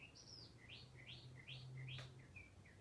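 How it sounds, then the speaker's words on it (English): Small birds chirp outside in a quick series of rising tweets, about eight calls in under three seconds, faint and distant over a low indoor hum. "Do you guys hear the birds?"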